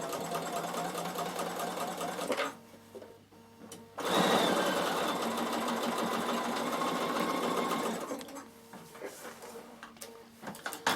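A Bernina sewing machine runs a half-inch seam through fabric, its motor whirring in a steady stretch between quieter pauses before and after.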